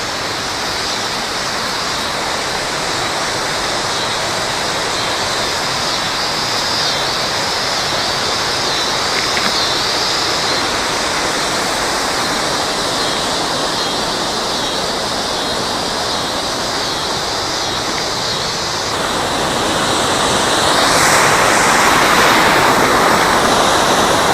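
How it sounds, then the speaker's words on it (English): A powerful waterfall roars continuously, a dense, steady rush of falling water that swells slightly louder near the end. "That's one heck of a waterfall,"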